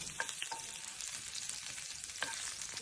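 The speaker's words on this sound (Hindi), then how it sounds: "तो इसको अच्छे से सौते कर लेंगे।" Onions sauté in a pan as a soft pizza topping with paneer, giving a faint, steady sizzle with occasional stirring clinks and no voices.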